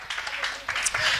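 Church congregation applauding, a steady wash of many hands clapping at moderate distance, with a voice speaking over the applause.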